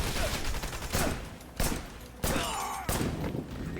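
Gunshots from the action game Wanted: Dead, several sharp loud bursts spaced a second or so apart over a dense, busy game soundscape, with no talk.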